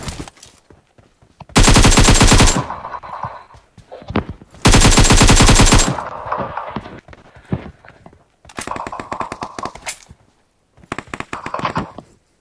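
Automatic weapons fire in the battle-royale game PUBG, with four loud, rapid bursts of gunfire separated by short pauses and faint footsteps between them.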